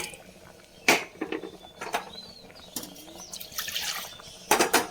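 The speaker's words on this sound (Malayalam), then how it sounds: "ഇനി ആവശ്യത്തിന് വെള്ളം ചേർത്ത് നമുക്ക് എത്ര ചാറ് വേണോ അതിനനുസരിച്ച്" Water is added to a coconut curry, giving intermittent pouring and splashing bursts with clinks of utensils in a quiet kitchen.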